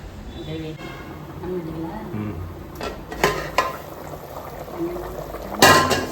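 Water bubbling in a pot at a low simmer for cooking mutton biryani, with a person talking over it and a few sharp clinks of utensils against metal.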